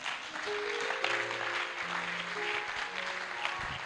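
A church congregation applauding during a French-language sermon: steady, moderately faint clapping that carries on throughout, with sustained organ or keyboard tones underneath.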